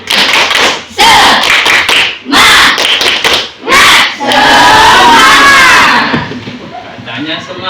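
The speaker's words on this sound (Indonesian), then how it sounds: "ayo kita tepuk semangat dulu" A primary school class in Indonesia does a rhythmic spirit clap, with bursts of clapping in a set pattern alternating with loud shouted chants from the children, ending in a long cheer.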